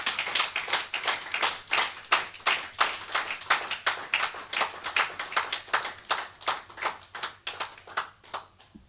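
Church congregation clapping together in a steady, rapid rhythm, many hands loud and close, sustained throughout in acclamation during a worship service.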